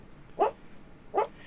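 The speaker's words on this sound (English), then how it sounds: "He's sleep barking." A sleeping dog gives two short, muffled woofs about a second apart, each soft and close against a quiet room.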